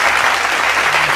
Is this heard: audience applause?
yes